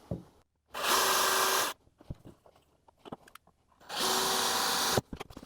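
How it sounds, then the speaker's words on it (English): Power drill boring through new Enduristan rack bodywork on a Honda CRF300L, two sustained whirring bursts about a second each with quiet handling noises and taps between them, close and loud. "always hurts me to drill into a new piece of bodywork"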